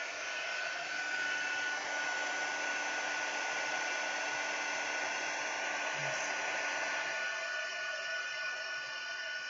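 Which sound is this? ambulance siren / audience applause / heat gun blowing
heat gun blowing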